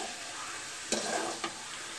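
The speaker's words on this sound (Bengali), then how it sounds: "আপনারা এইভাবে ভাজি করে খাবেন।" Onion fritters sizzle steadily in hot oil, with two brief scraping stirs of a utensil in the pan; close and fairly quiet, with no voices.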